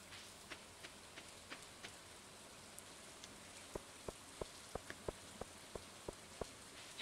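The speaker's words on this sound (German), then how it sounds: "der grüne Regen?" Green rain falling in Stardew Valley, a faint steady patter with soft regular drip-like ticks that grow more distinct toward the end.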